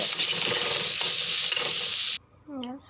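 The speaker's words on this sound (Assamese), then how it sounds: "সয়াবিনখিনি ধুনীয়াকৈ ভাজি ল'লোঁ।" Soybean chunks seasoned with salt and turmeric are stirred as they fry in hot oil, making a loud, close sizzle with scraping spatula strokes, then a sudden cut to near silence and a short voiced sound at the end.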